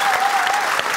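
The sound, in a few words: applause for the soldiers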